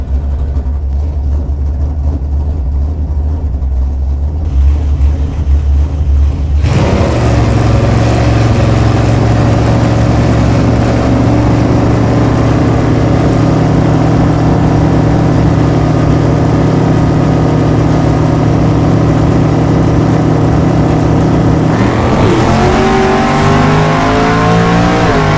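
Race cars roar around a track in a close contest, a loud sustained engine drone that deepens midway and shifts pitch near the end as revs change.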